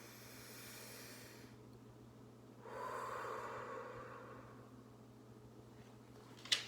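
A child or adult draws a long, soft breath in and lets it out slowly during a calming balloon breathing exercise, quiet and close with faint background hum.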